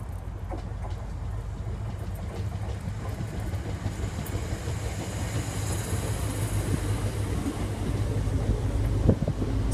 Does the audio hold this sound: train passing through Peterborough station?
yes